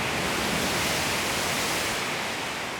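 Large 2 to 3 meter waves travel the length of a wave flume and collapse against a test dike built solely of clay, giving a loud, continuous broadband roar of crashing water throughout.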